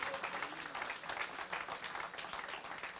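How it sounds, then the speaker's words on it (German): Audience applause for Frank Baumann at a Werder Bremen talk event, a dense sustained wash of many hands clapping, fairly distant and even in level with no voices over it. "ich möchte Sie bitten, Frank nochmal einen großen Applaus zu spenden"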